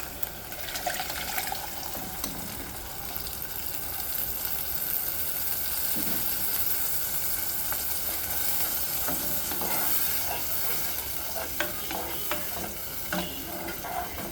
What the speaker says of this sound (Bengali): এখন আমি এটা নাড়াচাড়া করে কিছুক্ষণ এটাকে একটু কষাতে থাকবো